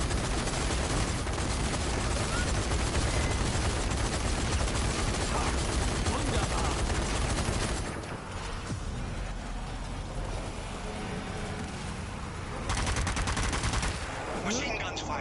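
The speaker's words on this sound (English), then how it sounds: "Machine guns firing." Machine gun fire in the zombie shooter Zombie Army 4: Dead War rattles in long, dense, loud bursts, easing briefly in the middle before resuming.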